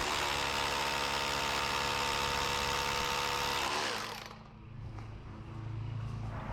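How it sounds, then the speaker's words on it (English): An SDS hammer drill grinds loudly and steadily into sandstone, then cuts off and drops into a lower mechanical hum before picking up again. "now we'll get the SDS drill"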